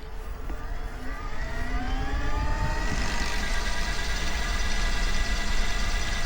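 A Velotric Discover M mid-drive e-bike motor accelerating in first gear, a whine that rises in pitch as it speeds up and then holds steady over road and wind rumble.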